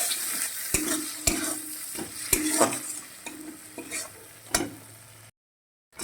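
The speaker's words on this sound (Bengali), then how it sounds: "এবার মশলাটা কষিয়ে নিই ভালো করে" A spoon scrapes and stirs spice masala of tomato, chilli powder and turmeric in a hot pan. Soft sizzling runs under repeated clanks and scrapes, then the sound cuts out near the end.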